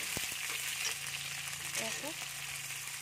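Onions fry in a pan for an Assamese chicken curry, a soft, even sizzle close by that stays quiet and unbroken, with a faint clink or two and no talking.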